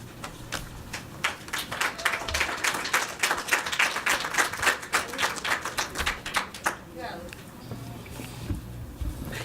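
Audience applause at a school board of education meeting, dense clapping from a room of attendees building for several seconds before fading, followed by quieter room noise and a voice.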